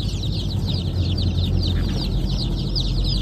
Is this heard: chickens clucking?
yes